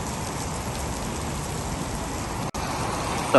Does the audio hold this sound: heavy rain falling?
yes